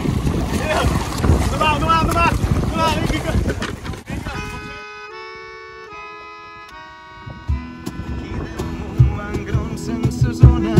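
A charter boat at sea off Mallorca under wind, with gusty buffeting and water noise beneath voices and music, then a calmer stretch dominated by music tones and scattered knocks.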